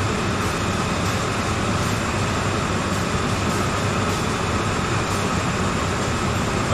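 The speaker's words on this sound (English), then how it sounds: "I got this thing humming at full power, man. This is one heavy train." CSX heavy-haul freight train locomotive at full power in Train Simulator, a constant loud rumbling drone with rail noise that holds steady throughout, with no talking.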